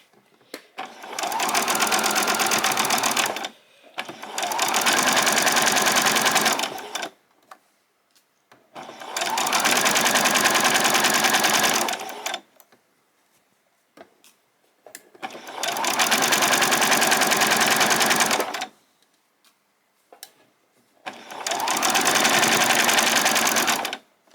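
A sewing machine stitches a PJ top in five loud, close bursts of about three to four seconds each, separated by short quiet pauses, with no talking.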